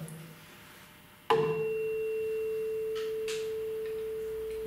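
A struck tuning fork in a physics classroom sounds a sudden sharp attack, then rings a single steady pure tone that sustains evenly with only slight decay, over a faint background and two small knocks.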